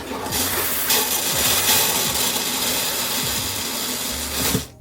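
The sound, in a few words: toilet flushing during RV winterization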